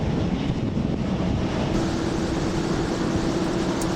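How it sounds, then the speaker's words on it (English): Strong wind gusting across the open Edwards dry lake bed, a steady, loud roar buffeting the microphone without letup, with no voices and no distinct events above the constant rush. "It's windy out there, Flykin."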